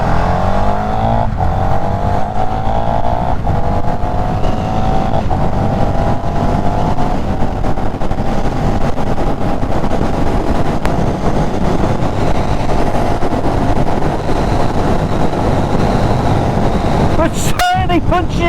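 A KTM 1390 SDR motorcycle engine drones loud and close while riding, its pitch climbing through the gears. Wind rushes over it and a rider talks over the engine.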